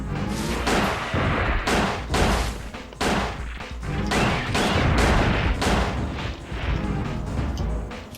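Gunfire in Dino Crisis 2 rings out as loud, repeated shots in quick bursts, each crack followed by a short echoing tail, continuing steadily throughout.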